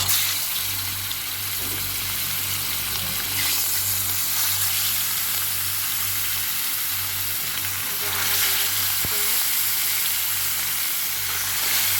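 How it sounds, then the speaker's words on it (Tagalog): Fish frying in oil in a pan, a loud continuous close sizzle with a steady low hum underneath and a slight swell near the end, no talking. "lagay na natin yung isda"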